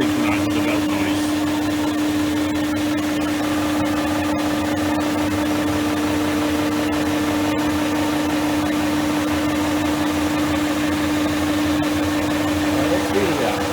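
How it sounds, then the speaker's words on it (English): A machine's drive belt runs steadily at 600 RPM, giving a continuous mechanical whir with a strong steady hum and a dense rattling texture, loud and unbroken throughout with no talking. "Again, we've just got the belt noise."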